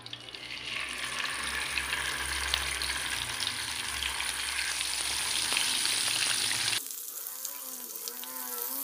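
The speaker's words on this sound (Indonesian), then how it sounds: "Panaskan minyak goreng. Kita tumis bumbu yang sudah disiapkan tadi." Spice paste for beef rendang sautéing in hot cooking oil gives a steady, dense sizzle for about seven seconds, then drops into a quieter, different stretch. Nobody speaks.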